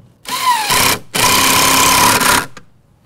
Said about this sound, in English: Now you simply drive the bolt through the hole in the side plate to secure it to the post.